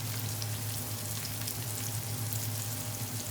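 Salmon fries in a pan over a high flame, making a continuous dense sizzle that stays even and fairly loud for the whole stretch, with no voices.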